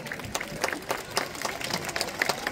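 Applause from a festival crowd at a Roman-Dacian reenactment event in Alba Iulia, honoring a Dacian troupe: scattered, uneven clapping with several sharper bursts over a busy outdoor background, fairly close and steady throughout.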